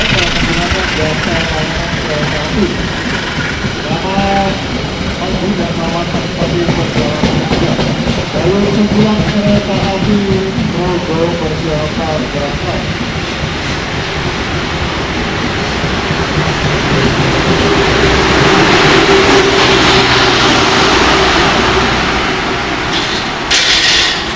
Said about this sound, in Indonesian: Sebentar lagi ada kereta api melintas ya teman-teman.